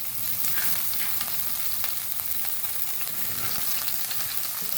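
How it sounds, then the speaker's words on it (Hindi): Finely chopped garlic and green chillies fry in hot oil, making a dense, continuous crackling sizzle that stays close and even, with small pops scattered through it. "पहले इसको फ्राई करेंगे, साथ ही हम हरी मिर्च भी शामिल कर देंगे।"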